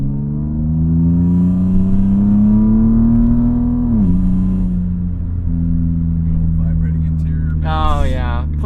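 An automatic BMW E36 M3 engine drones loudly from inside the car on track, a smooth rising rev that dips at a shift and settles, with a person talking briefly near the end.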